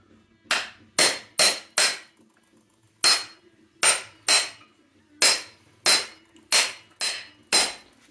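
Hammer blows striking the center of a metal engine part on a JAWA 350 motorcycle, sharp and close, twelve separate hits in uneven groups with short pauses between them.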